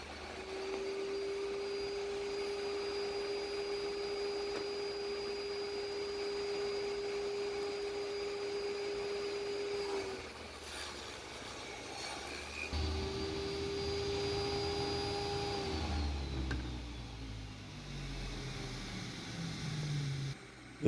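A DeWalt table saw runs steadily and close by, its motor whine dipping as it rips thin strips with a strip jig, then rising again for a second pass before winding down near the end.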